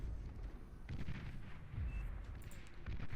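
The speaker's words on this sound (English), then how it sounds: "Persecutor up here on the hillside, firing away at whatever it can." Persecutor unit firing artillery in the strategy game Beyond All Reason during an 8v8 deathmatch, faint repeated booms and blasts in a muffled, distant battle din.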